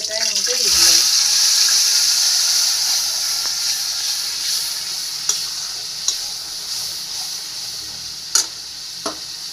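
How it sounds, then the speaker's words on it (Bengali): Onion and garlic paste dropped into hot oil with black cumin, a loud hissing sizzle that starts strong and slowly settles, followed by a few sharp utensil clicks near the end. "এই যে পেঁয়াজ রসুন বাটা আছে, এটা আমি পুরোটাই মধ্যে দিয়ে দিলাম"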